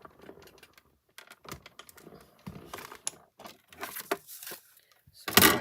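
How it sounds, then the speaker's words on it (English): A paper cutter works through a sheet for a masking-technique fun-fold card, making faint, irregular ticks and scratchy strokes that build to a louder rasp at the end, close up in a quiet room. "I'm going to go ahead and cut that out"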